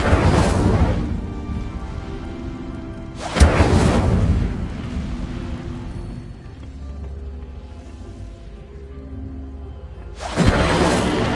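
Incendio fire spell bursts in the video game Hogwarts Legacy: three loud, broad whooshing blasts a few seconds apart, each flaring up suddenly and fading, with quieter ambient rumble between them.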